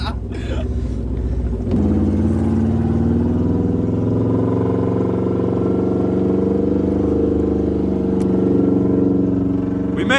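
A Subaru with open headers drives across a beach, its loud, steady engine rumble and exhaust drone continuous and close throughout, with a brief burst of revving at the start and voices talking over it.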